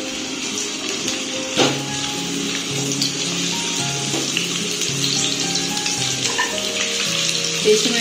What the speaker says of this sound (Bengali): এবার আমার সেদ্ধ করা আলুগুলো ভেজে নেব।